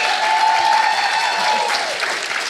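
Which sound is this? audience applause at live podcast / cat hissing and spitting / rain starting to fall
audience applause at live podcast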